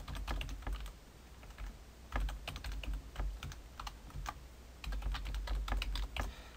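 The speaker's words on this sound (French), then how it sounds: "je vais écrire ici mon adresse courriel" Rapid, irregular keystrokes on a computer keyboard as an email address is entered, close and clear, with brief pauses between bursts of clicks and no talking.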